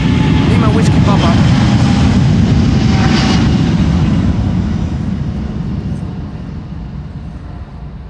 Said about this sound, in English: This is Finnair flight 1302 going to bloody Helsinki in Finland.